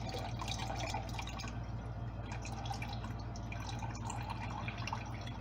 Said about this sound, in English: Go ahead and pour the salmon fluid off the salmon here